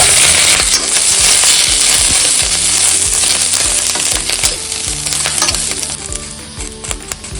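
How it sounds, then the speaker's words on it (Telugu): Green chilies fry in a spoonful of oil in a pan, making a loud, continuous close sizzle broken by metallic clinks and scrapes, with no voices. "కొంచెం ఆయిల్ వేసి ఫ్రై చేసుకుందాం"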